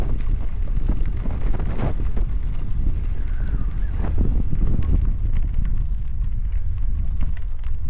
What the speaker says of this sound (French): C'est vraiment très venteux pour camper.